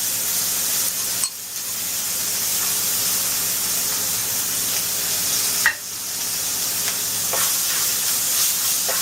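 Vegetables with onion and ginger frying in a pan in a very small amount of oil, a steady loud sizzle and hiss that cuts out briefly twice, with faint scraping of stirring.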